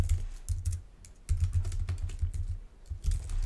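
Someone types on a computer keyboard while renaming link text in HTML, producing clustered bursts of close key clicks with short pauses between them.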